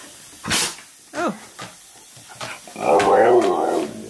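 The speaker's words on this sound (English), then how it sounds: "Do you have to sneeze on me?" A Husky gives a couple of short, snorting sneezes, followed by a breathy, whiny vocal sound; close to the microphone in a quiet room.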